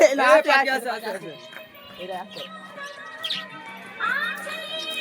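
Birds chirp outdoors in a village, with short high tweets scattered through the second half, partly under nearby people talking.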